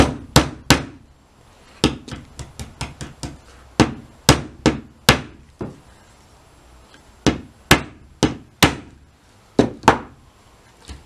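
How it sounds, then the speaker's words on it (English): Loud, sharp hammer strikes on nails driven into wood, coming in quick bursts of several blows with brief pauses between, close by and with no talking. "we're going to take our nails. And we're going to hammer them in."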